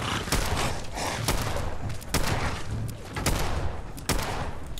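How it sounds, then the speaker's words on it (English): Rapid bursts of gunfire in the Fallout 4 video game, dense and loud with repeated volleys and heavy thuds running continuously through the fight, no talking. "I'm just going to shoot them until they die"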